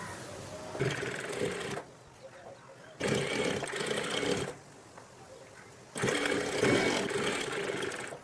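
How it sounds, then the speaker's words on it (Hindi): A sewing machine stitches along the edge of a fabric strip for an Afghani salwar, running in three steady whirring bursts of about a second to two and a half seconds, separated by short quiet pauses. "इस पट्टी के ऊपर किनार की सिलाई लगाना है"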